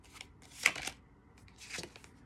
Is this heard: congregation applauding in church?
no